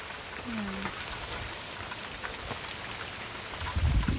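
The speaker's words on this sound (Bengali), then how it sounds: "বৃষ্টি যা হচ্ছে একদম বন্ধ হয়নি" Steady rain pours outdoors during the monsoon beside a canal where fish are caught, a dense even hiss with scattered drops throughout and a low thump near the end; no one speaks.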